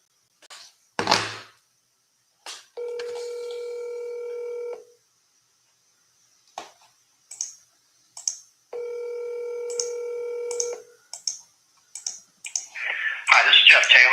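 Touch-tone telephone dialing to call a phone number: two bursts of steady dial tones separated by scattered keypad clicks and short beeps. Rougher noise enters at the very end.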